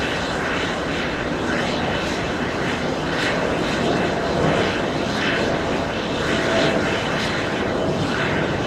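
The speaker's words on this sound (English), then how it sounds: "That's an A320." An Airbus A320 jet airliner at JFK airport roars steadily and loudly, its engine noise filling the air with a broad, continuous rumble and slight swells in intensity throughout.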